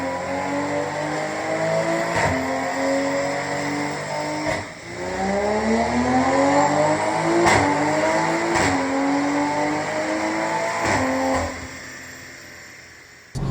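A BMW G29 Z4 fitted with hybrid turbos, making around 600 brake horsepower on 99-octane pump fuel, accelerates hard through several gears, its engine note climbing and dropping at each shift, loud and close from inside the car.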